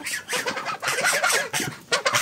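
Guinea geese on a farm call before feeding, a close run of loud honking, cackling cries in quick irregular bursts, with no talk over them.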